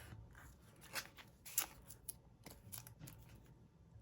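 Scissors snip a delicate paper cutout for a greeting card in a series of quiet, close, crisp cuts with short pauses between them, with no one speaking.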